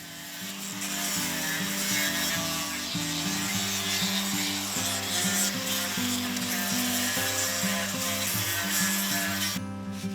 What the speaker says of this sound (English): I'm going to get on with the angle grinding